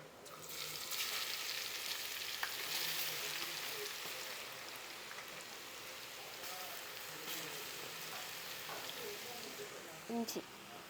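Mustard seeds, dried red chillies and garlic sizzle and crackle in hot oil for a Kerala prawn curry, a steady dense frying hiss with scattered pops throughout, fairly close.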